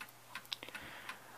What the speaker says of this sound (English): This is a fairly simple mantle or shelf clock.